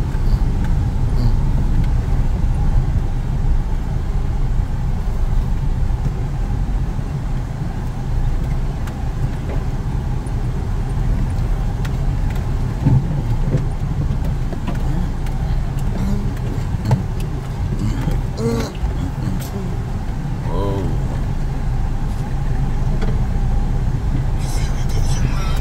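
A car drives slowly with a steady low engine rumble and road noise, pulling up at a building plot in the Pan-African Village, with people talking over it throughout.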